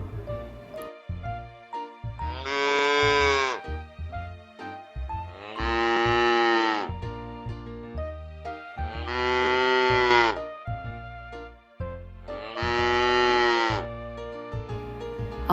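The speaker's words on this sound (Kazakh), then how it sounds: "Мынау сиыр. Оның баласы бұзау. Сиыр не дейді? Тыңдайық." A cow moos four times in a children's animal animation: long, loud, drawn-out lows evenly spaced, each lasting over a second, with a quiet gap between them.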